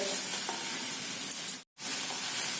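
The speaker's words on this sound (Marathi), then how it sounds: "तेल तापल्यानंतर त्यामध्ये एक बारीक कांदा घालून घ्यायचा" Finely chopped onion frying in hot oil in a pan, a dense continuous close sizzle with faint stirring scrapes, briefly cut to silence for a moment before resuming, and no voices.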